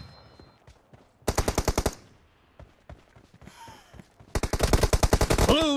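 Automatic gunfire from the Battlegrounds Mobile India game comes in two loud, rapid bursts of evenly spaced shots with quieter game sounds between them, and there is no talking.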